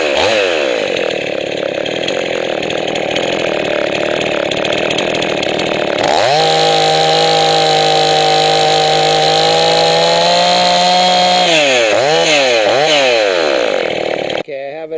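A Husqvarna 51/55 chainsaw runs steadily and loud, then its engine revs up to a higher held pitch during carburetor adjustment, followed by several quick throttle blips up and down before it cuts off at the end.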